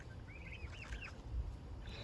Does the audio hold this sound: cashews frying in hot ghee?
no